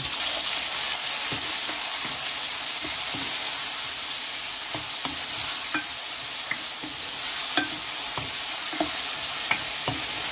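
Ginger garlic paste mixed with a spoon in a frying pan, steady sizzling under repeated light scrapes and taps of the spoon, close and continuous without talk.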